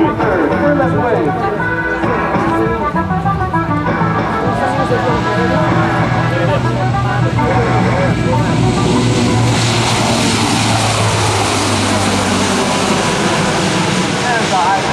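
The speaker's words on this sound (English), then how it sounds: "On the takeoff roll, the C-130J is 143rd." A Lockheed C-130J-30 Hercules propeller aircraft roars loudly as it rolls for takeoff, engines building steadily and continuously, with a voice talking over the noise.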